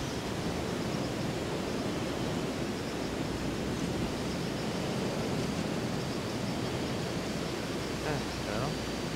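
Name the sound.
waterfall rushing in the video game The Golf Club 2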